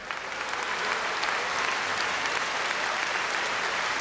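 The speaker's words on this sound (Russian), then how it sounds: "ваши аплодисменты хочется запомнить" A concert audience at the New Wave 2014 festival in Jurmala applauds in a dense, sustained wash of clapping that swells in the first moment and then holds steady and full.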